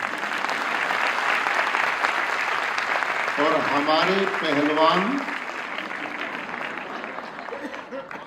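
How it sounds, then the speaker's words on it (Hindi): An audience at a DAV College Managing Committee event honouring the Governor breaks into sustained applause, a broad steady roar of clapping across the hall that continues under a man's speech and slowly thins out. "जैसे अभी आपने ताली बजाई"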